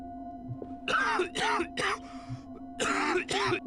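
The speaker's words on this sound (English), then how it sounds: "Please stop coughing now." A character in SWAT 4 coughs and hacks from gas in several harsh bursts, with short gaps between them over a constant electronic hum.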